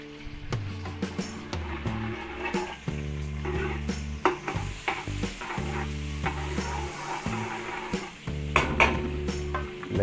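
Margarine or cooking oil sizzles loudly in a large pan while being stirred, with repeated scraping and clanking of a metal utensil against the pan, while cooking a Batangas-style pochero.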